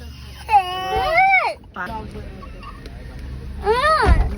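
A young boy cries in two loud, wailing bursts close by, with a quieter pause between them and voices talking underneath.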